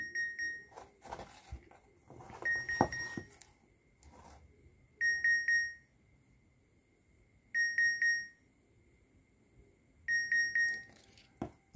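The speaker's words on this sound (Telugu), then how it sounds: "ప్లే సౌండ్ మీద ట్యాప్ చేయగానే మీకైతే కనుక అక్కడ బీప్ సౌండ్ అయితే మీరు గమనించవచ్చు" Bluetooth earphones answer a find-my-device app with repeated bursts of high electronic beeps, each burst a quick cluster of chirps separated by a few seconds of quiet, faint at first with some handling noise before the beeping settles into a pattern.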